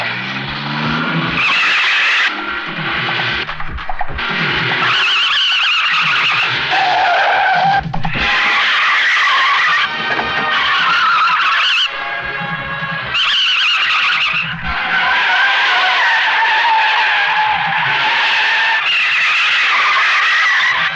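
A fast-driven car repeatedly skids and squeals its tyres in a loud, sustained sequence of screeches and engine roar, with bursts rising and falling over about twenty seconds.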